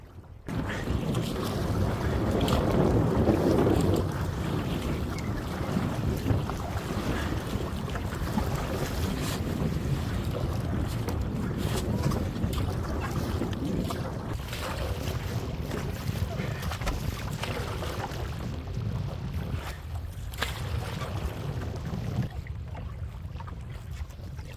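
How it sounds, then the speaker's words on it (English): Wind gusts over Coniston lake while canoeing, a broad steady roar of buffeting across the microphone with faint water lapping beneath, constant and close throughout with no talk heard. "The wind has really picked up now, hasn't it?"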